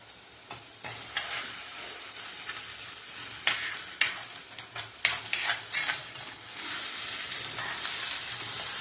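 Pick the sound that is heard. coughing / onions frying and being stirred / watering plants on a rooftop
onions frying and being stirred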